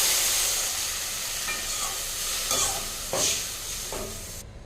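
Water poured into roasted vermicelli in hot ghee for wheat payasam, giving a steady broadband sizzle and hiss with a few brief bursts of bubbling, continuous and fairly close.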